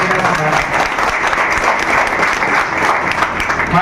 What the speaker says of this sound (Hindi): एक बार जोरदार तालियां बजाने का